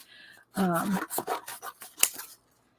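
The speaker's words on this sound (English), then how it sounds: "You can take your scissors." Scissors cut through collage paper with a run of crisp snips and rasping slices, close and fairly loud, one sharp click near the end, and no talk over them.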